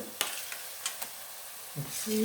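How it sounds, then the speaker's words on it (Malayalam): Onions sauté in a pan with a soft sizzle under occasional sharp scrapes and clinks of a stirring spoon, fairly quiet and close, with a brief faint voice. "ഈ ഉള്ളിയൊക്കെ ഒന്ന് വഴന്ന് വരുമ്പോൾ ഒന്ന് തളരും, കുറച്ച് കളറൊക്കെ ചേഞ്ച് ആവും"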